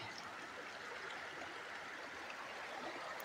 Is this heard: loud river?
yes